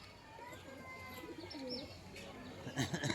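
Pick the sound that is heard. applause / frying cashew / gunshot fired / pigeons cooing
pigeons cooing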